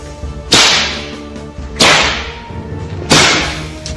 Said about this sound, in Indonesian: Ternyata suara cambuk itu telah menggelisahkannya.